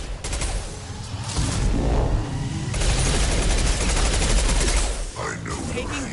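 Dense Mass Effect 2 gunfire rattles in rapid bursts with a heavy, loud barrage that runs almost the whole time and eases briefly near the end.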